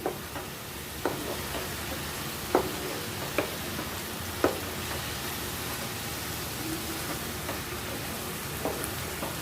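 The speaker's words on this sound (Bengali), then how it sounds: "এবার আমি আর একটু নাড়িয়ে চাড়িয়ে দেব" Red amaranth greens being stirred as they fry in a pan with some water still left, giving a steady soft sizzle throughout and a few louder scraping clicks of the spatula at irregular intervals, close up, with no talk.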